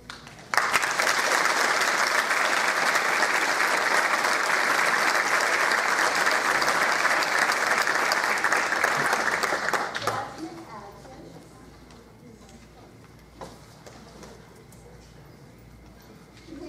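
Loud, dense applause from the audience at an elementary school spring strings concert fills the first ten seconds, then tapers off to a quiet room with scattered light noises.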